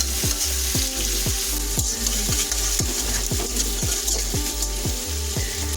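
Chopped onions being fried in oil for a chicken khichuri, with a loud continuous sizzle broken by regular scraping strokes of a spatula stirring the pan, close and without talk.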